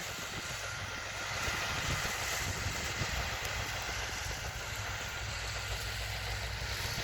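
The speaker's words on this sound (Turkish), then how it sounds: "şu an traktörümüz atıyor" A tractor spreads fertilizer across a field being prepared for sunflower planting, its engine a steady, fairly close drone that runs unbroken from start to end with no talking.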